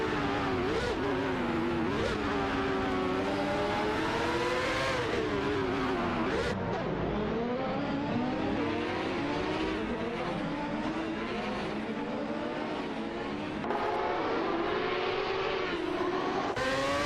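Race cars in an AI-driven career-mode racing video game roar continuously, engines revving and shifting pitch as cars accelerate and pass, loud and dense throughout.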